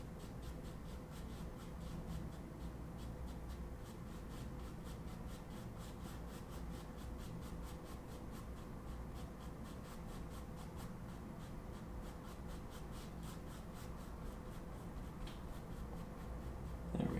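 A towel rubs acrylic paint off a canvas during a waterfall landscape painting, a steady, soft scrubbing rasp in quick repeated strokes that continues evenly throughout at low level, close up and without speech.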